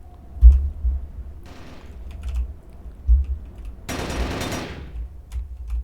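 Gunfire exchanged in the video game Warzone: a short distant burst early on, then a louder, longer burst of rapid fire toward the end, over low background noise.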